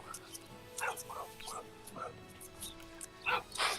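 Dogs barking and yipping in the Final Fantasy XIV online game, several short barks scattered over a few seconds at moderate distance, with speech running underneath.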